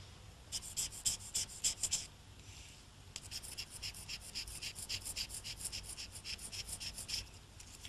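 A craftsman polishes the metal surface of a Japanese sword fitting with whetstone and charcoal, producing faint, rhythmic, close rubbing strokes in two quick runs separated by a brief pause.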